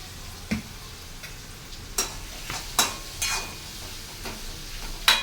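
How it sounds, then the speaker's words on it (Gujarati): Coriander-cumin powder, chili and salt are stirred in a pan for Gujarati sev and spring onion curry: a quiet sizzle punctuated by a handful of sharp spoon scrapes and taps against the metal. "આપણે એને સારી રીતે હલાવી લઈશું"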